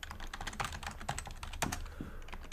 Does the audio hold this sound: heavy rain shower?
no